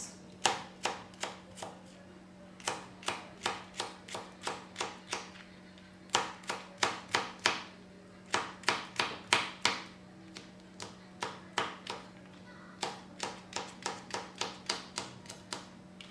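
A knife chops food into small pieces on a board, fast regular bursts of sharp close taps with short pauses between runs, over a faint steady background hum.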